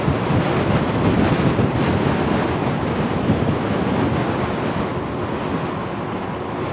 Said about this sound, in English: Right now I have some very heavy winds hitting up against me.